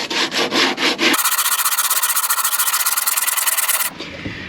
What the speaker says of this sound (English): So I'm just going to sand that down and refinish it.